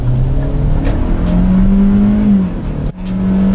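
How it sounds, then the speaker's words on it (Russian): A Hyundai Creta 1.6 manual crossover engine revs hard to 6000 rpm and climbs in pitch accelerating to 100 km/h, briefly dropping at a gear change before pulling again, loud and close from inside. "Мотор выкручивается до 6000 оборотов. И Hyundai Creta резво набирает 100 км в час."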